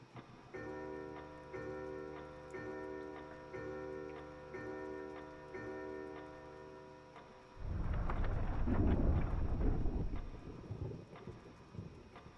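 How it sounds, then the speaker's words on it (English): Clock in the video game Resident Evil Remake HD, ticking and ringing with regular resonant strikes for several seconds, then giving way to a loud rumbling, thunder-like swell. "It really sounds like this clock noise is not coming from this clock in front of me."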